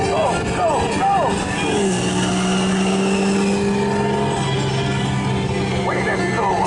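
Radiator Springs Racers ride car at Disneyland speeding along the track, a loud continuous engine-like roar with rising and falling pitch sweeps as it races uphill, no talk.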